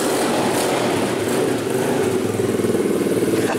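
SSR dirt bike engine starting up and settling into a steady idle, a continuous close buzzing drone with slight pulsing.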